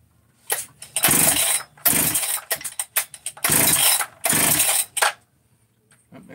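An engine is cranked in a series of loud, close bursts separated by brief pauses, struggling to start, with no talking.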